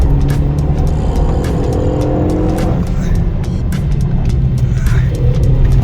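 A Renault Mégane III R.S. on a driving test roars along at speed, its engine and tyre noise loud and constant from close by, with clicks and knocks over the drone and a voice faintly underneath.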